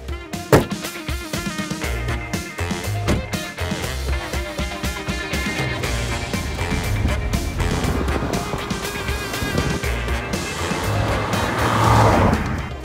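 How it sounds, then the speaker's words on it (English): A BMW 2-Series Gran Coupe's turbocharged engine revs and pulls under acceleration, a loud, dense engine roar building steadily with rising intensity toward the end, heard from inside or near the car. "The very first thing you notice as soon as you hit the gas pedal is the sound from the engine as the turbo kicks in"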